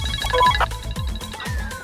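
A mobile phone ringtone from an unknown caller plays a loud, close electronic melody in repeating bouncy phrases over a low beat, with no voices.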